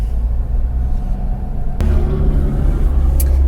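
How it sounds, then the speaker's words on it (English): Slow highway traffic in Tennessee rumbles as a steady low drone from inside a moving vehicle, with a brief click partway through and continuous road noise throughout. "Tennessee traffic, y'all."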